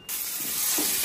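Spices sizzle in hot oil for tempering during home cooking, a loud steady frying hiss that starts abruptly and fills the moment with no one speaking.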